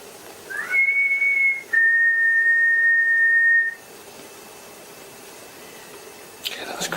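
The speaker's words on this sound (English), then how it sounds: "Do you hear that whistle outside?" A clear, steady high-pitched whistle sounds in two sustained tones, then fades away into quiet background hiss.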